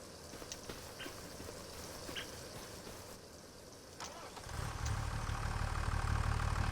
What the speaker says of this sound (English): tractors are loud.